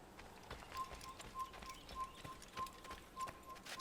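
Horse hooves clip-clop in a quick rhythmic gait through a noisy, busy Assassin's Creed game soundscape, with a faint steady tone running through it.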